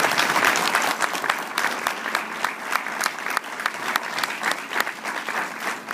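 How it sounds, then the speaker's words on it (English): An audience at a Toastmasters club meeting claps steadily for several seconds, a dense, moderate-volume patter of many hands with no voices over it. "So please put your hands together for Rick Furbish."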